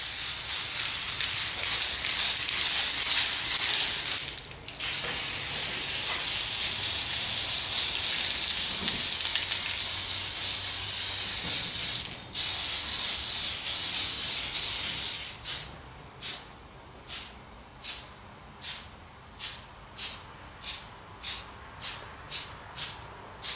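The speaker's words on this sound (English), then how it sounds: "So all the black spray paint's now on" Long continuous hiss of a black aerosol spray paint can on a model train piece, briefly interrupted twice, then a run of short rhythmic bursts of spraying, close up.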